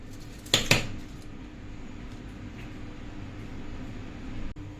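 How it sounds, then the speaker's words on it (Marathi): A lid is pressed onto a container of homemade mango ice cream, giving two quick close clattering snaps, followed by a quiet background hum and a faint tap near the end. "आणि मग आपण ह्याला झाकण लावणार आहोत"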